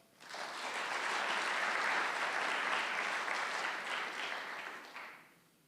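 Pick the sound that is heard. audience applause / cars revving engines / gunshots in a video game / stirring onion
audience applause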